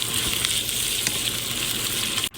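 Onions frying in a pan for a Telangana-style chicken fry, a steady broad sizzle with faint stirring clinks, cut off abruptly near the end.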